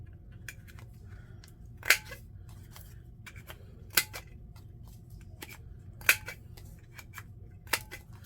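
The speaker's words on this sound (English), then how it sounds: "I'm going to round the corners." Paper corners being rounded off for a butterfly journal, four sharp snips a couple of seconds apart with faint rustling of paper between them, close and without voices.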